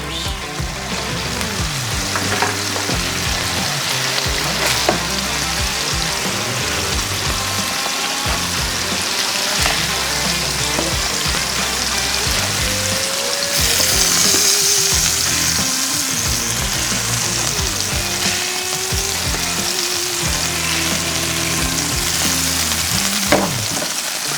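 Burgers cook on a Blackstone 22-inch E-Series griddle, a steady loud sizzle and frying hiss running throughout with occasional scraping clatter, no talking.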